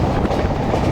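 A train runs steadily through hilly country, a dense, loud continuous rumble of rolling wheels and carriages heard up close for a brief moment, with no voices.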